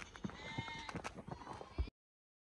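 Several goats bleat in short, wavering cries on a ranch, fairly close, with faint background noise between the calls.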